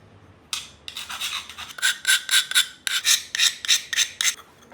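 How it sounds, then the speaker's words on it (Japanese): A diamond file rasps along the broken edge of a ceramic piece during kintsugi repair. About a dozen quick, close, bright scraping strokes follow in a steady back-and-forth rhythm, heard alone. "断面にダイヤモンドヤスリを使って面を取るという工程です。"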